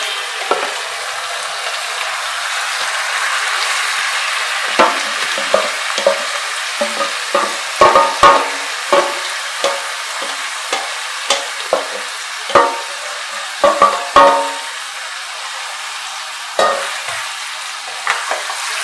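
Chicken pieces fry with well-browned onions for Bengali methi chicken, a steady close sizzle broken by repeated sharp scrapes and knocks of a spatula stirring the pan, with no voices.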